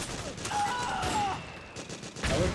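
Rapid bursts of gunfire in Metal Gear Solid 4: Guns of the Patriots, dense shots through the clip with a fresh burst near the end.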